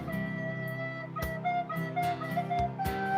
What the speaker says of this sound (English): This is a crappy flute version of something.